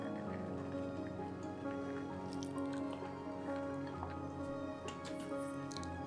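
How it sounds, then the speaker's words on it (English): Red kidney beans pour into an Instant Pot with a continuous soft wet rattle and patter, small drips and squishy clatter spreading over several seconds at a moderate, close level. "Then add in all the red kidney beans."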